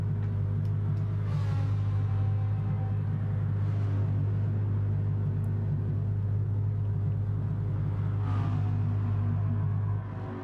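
A Ferrari race car engine in a racing video game on the Sardegna circuit, a steady loud low droning rumble that holds unbroken for the whole stretch, with occasional rising tonal sweeps over it.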